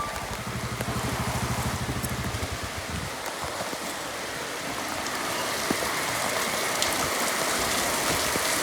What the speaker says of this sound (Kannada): ಜೋರಾಗಿ ಮಳೆ ಸ್ಟಾರ್ಟ್ ಆಗ್ತಿದೆ